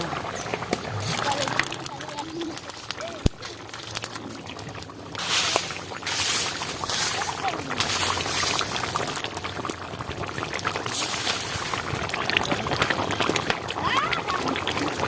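Liquid pours into a bubbling pan of rohu fish curry, producing a continuous gurgling, boiling wash that grows fuller partway through, with a voice talking faintly in the background.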